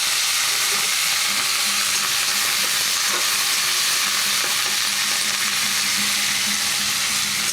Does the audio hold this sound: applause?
no